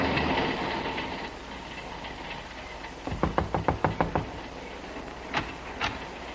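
Train sound effect from a 1940s radio drama: a steady rumbling ride, then a quick run of sharp rhythmic clickety-clack knocks over the rails, followed by a couple of isolated clanks, with no voices.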